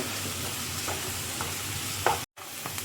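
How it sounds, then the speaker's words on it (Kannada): Onions fry over a high gas flame, a steady close hiss of sizzling oil with stirring scrapes in the pan, then a brief dropout near the end. "ಇಲ್ಲಿ ಈರುಳ್ಳಿ ಫ್ರೈ ಮಾಡುವಾಗ ಗ್ಯಾಸ್ ಫ್ಲೇಮ್ ಫಾಸ್ಟಾಗಿ ಇಟ್ಟಿದ್ದೀನಿ"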